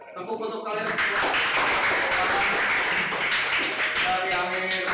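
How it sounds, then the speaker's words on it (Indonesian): A group in a classroom bursts into sustained applause after a brief lead-in, a dense wash of many hands clapping together. Voices chatter and call out over the clapping. "Tepuk untuk kalian semua."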